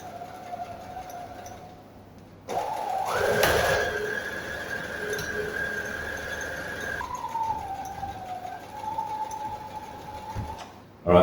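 A sewing machine stitches along the top of a skirt waistband, its steady motor whine running in long continuous stretches with a brief stop, shifting pitch slightly as the speed changes, close and moderately quiet.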